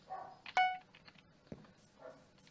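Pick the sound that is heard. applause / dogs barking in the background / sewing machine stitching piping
dogs barking in the background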